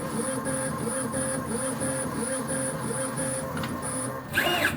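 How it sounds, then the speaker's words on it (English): A CNC milling machine running a trochoidal toolpath, a steady mechanical whine that rises and falls in regular repeating cycles, with a sharper high tone at the end. "That's of course a trochoidal toolpath, which, yeah, which can get quite annoying if you watch the machine"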